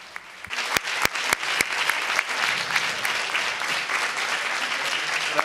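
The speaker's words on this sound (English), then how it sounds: "But a big round of applause" A round of applause closes a team press conference, dense continuous clapping from a room of people with a few sharp, close hand claps standing out near the start.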